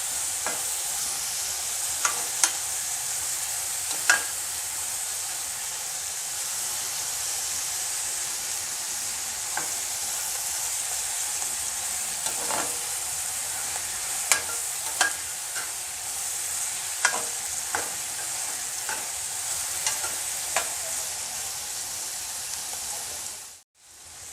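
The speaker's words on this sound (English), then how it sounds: "Stir it nicely and roast it until it's golden brown." Onions are stirred and roasted in a pan until golden brown, giving a constant bright sizzle broken by occasional sharp clicks of a utensil against the pan.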